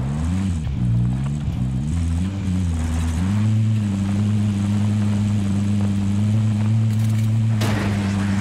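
A helicopter in the shooter game Modern Warfare: Warzone drones continuously from close range, a steady, heavy rotor-and-engine hum that shifts slightly in pitch early on, then holds level.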